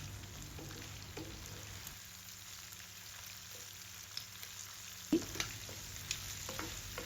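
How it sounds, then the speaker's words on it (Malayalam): Prawns fry in oil in a pan for prawn pickle, giving a faint, steady sizzle with a low hum, a few soft stirring clinks and one sharper knock near the end. "ഇപ്പം കൊഞ്ച് ഏകദേശം ഫ്രൈ ആയി വന്നിട്ടുണ്ട്."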